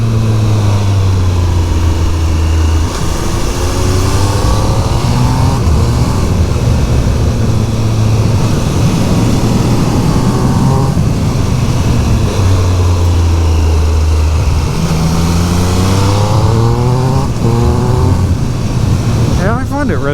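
A 2023 Triumph Speed Triple RS 1200 motorcycle accelerating hard through the gears, its engine note repeatedly rising in pitch and then dropping at each shift, loud and close throughout, with a rider's voice talking over it.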